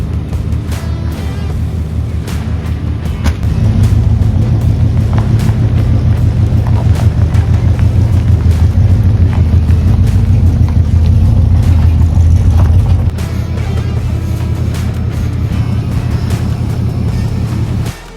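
An OBS pickup truck towing a 1970 Chevelle SS on a trailer rolls along with a loud, steady engine and road drone that swells in the middle, with wind buffeting over it and no talk.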